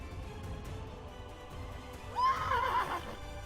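A horse whinnies in a video game, Mortal Online 2, partway through, a short wavering neigh rising over a low background rumble, with no talking.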